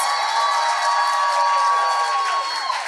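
A large live audience in Miami, Fort Lauderdale cheers and whoops loudly to welcome Ava Max, a dense, sustained roar of voices with shrill shouts rising above it.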